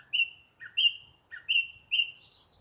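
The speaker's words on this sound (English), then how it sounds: "none of us really knows what a thrush sounds like" A thrush sings alone in a clear run of short, bright whistled phrases that alternate in a short-long pattern, close and distinct against a quiet background.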